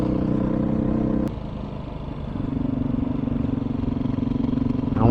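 A motorcycle rides along at steady speed with a continuous engine drone and road rumble, the engine note dipping briefly before settling back into a steady pitch.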